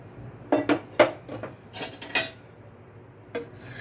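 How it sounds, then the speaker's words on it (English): A spoon clinks and scrapes against a cooking pot in a few sharp, uneven knocks as tomato puree masala goes into dal makhani. The knocks sound close, with short pauses between them and no talking. "Now I'm putting the entire tomato puree masala which we had made, I showed you, into this."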